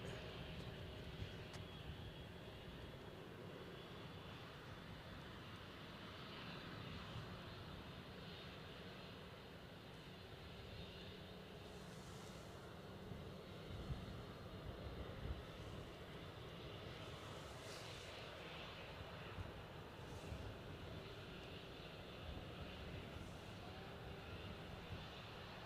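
A business jet taxis along the runway at Newcastle Airport, its engine a steady distant whine and rumble that holds evenly throughout with no nearby voices.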